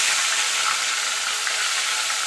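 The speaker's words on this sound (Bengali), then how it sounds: "এবার তেলটা গরম হলে আমি মাছটা আগে ভেজে নেব।" Prawns fry in hot oil in a pan, giving a steady, loud, dense sizzle with constant hiss and crackle and no voices.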